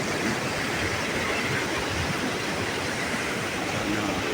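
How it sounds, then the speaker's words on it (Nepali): A waterfall swollen after overnight rain near Dharan roars as a dense, steady wash of rushing water, close and continuous throughout. "यो चाहिँ झर्ना हो, झर्ना"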